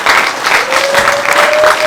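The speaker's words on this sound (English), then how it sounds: "let's do a round of applause for all three maids of honor" A wedding reception crowd claps for three maids of honor, a steady wash of applause lasting under two seconds with a thin sustained tone running beneath it.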